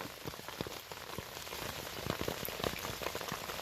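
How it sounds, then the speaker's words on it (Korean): Rain falls outdoors while chestnuts are gathered from the ground, a steady patter of drops striking surfaces with sharp individual hits and no talking. "비가 오는데도 예"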